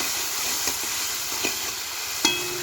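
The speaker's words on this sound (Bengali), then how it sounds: "প্রথমে কাঁচা লঙ্কা বাটা আদা বাটা তারপরে দিয়ে দিলাম টমেটো এটিকে আমরা খুব সুন্দরভাবে একটু ভেজে নিই" Tomato with green chili paste and ginger paste fries in a pan at an outdoor winter picnic, giving a steady, loud sizzle with a few faint clinks of stirring and no talk.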